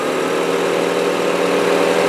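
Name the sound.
engine of a $200 car idling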